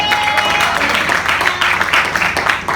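A church congregation applauds during a sermon, with dense, sustained clapping that fills the room loudly and evenly, with a faint murmur of voices mixed in.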